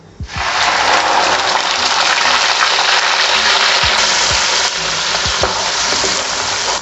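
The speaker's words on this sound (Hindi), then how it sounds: "प्याज को हमने बहुत ज़्यादा फ्राई नहीं करना, इसको लाइट गोल्डन करके" Onions frying in hot oil, cooked only to light golden for a mutton kofta curry gravy: a loud, dense sizzle bursts in abruptly and roars steadily for several seconds, with a few faint knocks underneath and no voices.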